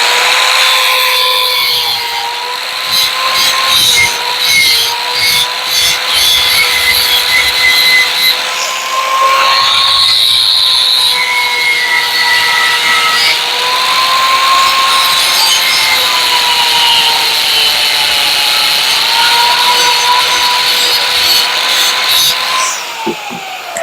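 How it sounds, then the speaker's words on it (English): A handheld grinder works a corner of pallet wood, giving a loud, continuous whining drone with shifting pitch and rough rubbing texture that carries on steadily, close up with no talk. "I just used a grinder to do that"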